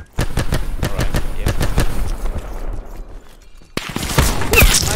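Gunfire and explosive bangs from Call of Duty Black Ops 4 Search and Destroy, with rapid repeated sharp blasts from a nine-bang grenade early on, a quieter stretch, then a loud burst of explosions near the end.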